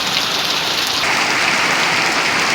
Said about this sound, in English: It's been raining like this for 30 minutes now,